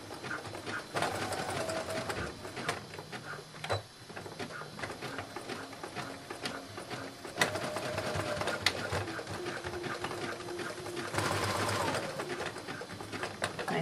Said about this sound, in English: now I'm going to stitch back and forth between those two pins.